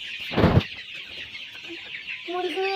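Chickens on a chicken farm in Bangladesh cluck in short tonal calls near the end of the clip, preceded by a loud broadband burst and set over steady high farm noise.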